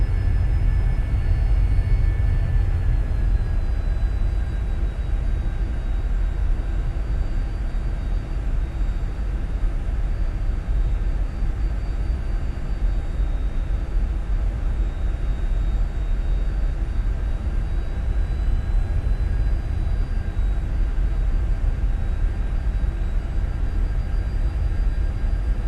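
A Citation 550 business jet taxiing in the X-Plane 11 flight simulator, its engines giving a steady, unbroken drone with a thin high whine that holds for the whole stretch, with no voices.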